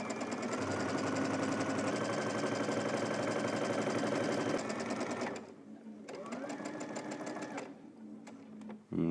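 A sewing machine stitches the seam of a lounge robe, running loud and steady for about five seconds, then pausing and restarting in shorter bursts with gaps between them.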